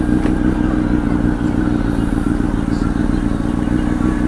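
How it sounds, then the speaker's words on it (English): Motorcycle riding at speed, heard from a helmet-mounted mic, with a loud steady roar of wind buffeting over low engine drone, continuous and close throughout. "Just check out the wind noise."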